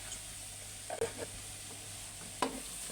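Minced pork and green garlic are stir-fried in a pan, giving a faint, soft sizzle broken by two brief spatula scrapes against the pan, with no talking.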